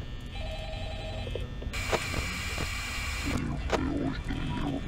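A telephone rings in the Five Nights at Freddy's horror game, a bright electronic trill in steady pulses cutting through faint background hum. A person talks briefly near the end.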